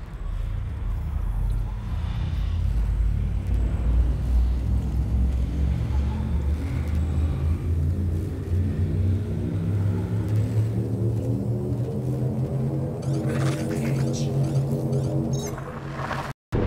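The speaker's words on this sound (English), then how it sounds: "Shift drive charging." A spaceship's frame shift drive charges in Elite Dangerous, a loud, steady low rumble whose tones climb gradually in pitch over many seconds, ending in a sudden cutoff.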